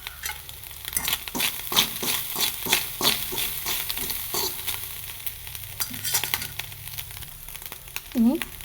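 Grated coconut and curry leaves frying in a pan, stirred with a spoon in a steady series of scraping strokes over a soft sizzle, with a brief voice near the end.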